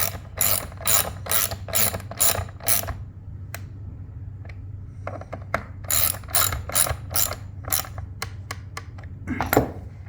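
A ratchet wrench tightening bolts while installing an electric lift motor, rapid bursts of close, loud metallic clicking in several runs separated by short pauses and a few single clicks.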